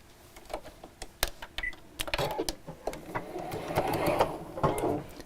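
Sewing machine stitching straight across the top of a piece and then top stitching, heard as close mechanical rattling runs broken by brief clicks and pauses, with no talk.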